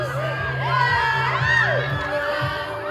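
An audience cheers and shouts at a stage performance, with loud rising whoops and excited voices over a steady crowd roar lasting throughout.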